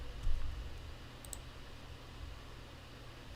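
A computer mouse gives a single sharp click near the start over a steady hiss of room noise, then a faint second tick, with nothing else audible.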